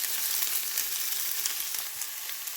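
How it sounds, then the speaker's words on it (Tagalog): Onion, garlic and ginger sautéing in a pan for a soup, a steady bright sizzle with soft stirring crackles throughout, close and continuous with no talking. "Nagigisa po tayo ng sibuyas, saka bawang, saka loya."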